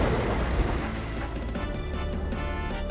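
Steady rain falls over open ground the night before a battle, a dense, even hiss with low rumbling beneath that fills the whole stretch without pause.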